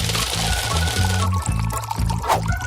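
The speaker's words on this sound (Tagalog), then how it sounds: "Asukal at tubig. Ilagay ito sa kaserola." Sugar and water pour into a saucepan with a short, close liquid splash and trickle, set against a busy kitchen background with faint background sound.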